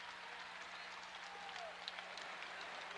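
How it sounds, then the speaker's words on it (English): A crowd at a men's volleyball match applauds and cheers from a distance, a steady, fairly soft roar of clapping throughout, with an announcer's voice faintly present. "Crowd on its feet."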